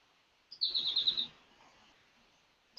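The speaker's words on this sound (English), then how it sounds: "Those birds chirping just sound lovely." Outdoor birds let out a short burst of rapid, fairly close chirps, then fall quiet, with a faint final tweet at the very end.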